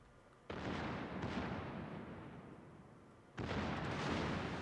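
Warship main-battery shells firing in World of Warships during a competitive match, heard as two loud booming salvos, one at the start and another near the end, each followed by a long rumbling tail.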